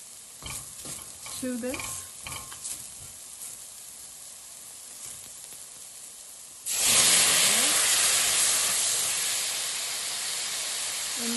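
Tomatoes tipped into a hot pan for vegan shahi paneer burst into a loud, close sizzle that holds steady and slowly eases, following a short stretch of quiet talk.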